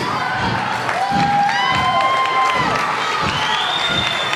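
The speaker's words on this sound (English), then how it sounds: "all you fans should cheer for them" Wrestling fans in an arena crowd cheer and shout together in a steady, moderately loud wash of voices, with whistles and a few higher shouts rising above the din.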